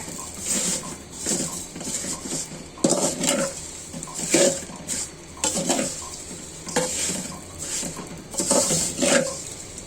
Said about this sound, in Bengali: অল্প আছে এটা নাড়াচাড়া করে নিতে হবে তেলের ভিতরে